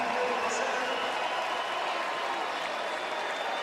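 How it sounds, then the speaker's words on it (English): A crowd at a Michigan versus Auburn men's basketball championship game applauds in a steady, dense wash of clapping that holds evenly throughout, with a commentator talking over it. "a little well-deserved round of applause"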